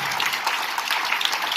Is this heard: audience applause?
yes